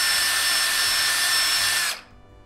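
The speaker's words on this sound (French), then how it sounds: "On teste ensuite un nouvel outil qui, lui, est un espèce d'embout de ponçage pour perceuse." A power drill fitted with a sanding attachment whines at a loud, steady high pitch for about two seconds, then cuts off abruptly, leaving quiet room noise.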